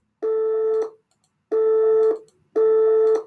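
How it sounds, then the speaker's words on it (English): Three identical steady computer-generated sine wave tones, each about half a second long, separated by brief silences, clean and loud. "Now let's listen to the computer-generated sine wave."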